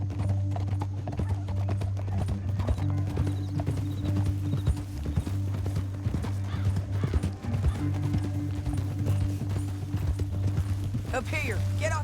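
Horse hooves clip-clop in a steady trotting rhythm over a low droning score, with voices speaking and a horse whinnying near the end, in Red Dead Redemption 2.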